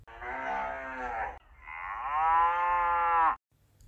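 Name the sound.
cow mooing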